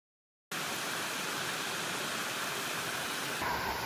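Steady broadband rushing of a flowing mountain stream on Seoraksan, starting abruptly and continuing evenly without voices.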